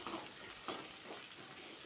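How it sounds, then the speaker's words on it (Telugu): Steady, soft sizzling of tempering spices frying in hot oil for kadhi pakoda, with a few brief crackles, close by and without talk. "చూడండి, పోపు వేగింది కదా"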